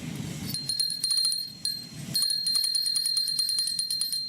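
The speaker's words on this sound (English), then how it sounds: "Then here's the dinner bell. Remember we did this guy? The shark? Listen." A glass dinner bell shaped like a shark rings in bright, high tinkling strikes, a brief burst followed by sustained clear ringing and repeated chimes close to the listener.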